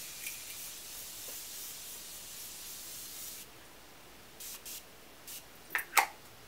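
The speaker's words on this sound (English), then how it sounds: "Just gonna spray the face with Morphe Matte Continuous Setting Mist." A Morphe Matte Continuous Setting Mist is sprayed onto a face: a steady soft hiss of fine mist for about three seconds, then a few short puffs and two sharper spritzes near the end, close and fairly quiet.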